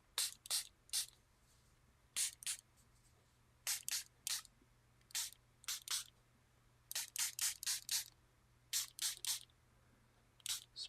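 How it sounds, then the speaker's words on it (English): Spray bottle misting water onto a watercolor painting being worked for texture: about twenty short, sharp hissing spritzes, some in quick pairs and runs of four or five, close and fairly quiet over a faint steady hum. "Spray it a little bit, see what happens."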